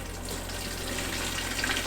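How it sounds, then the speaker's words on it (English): Water being poured into a lawn sprayer tank, a steady broadband rush and splash that holds at an even level for the whole short stretch, close by, with no voices over it. "put half the amount of the water in,"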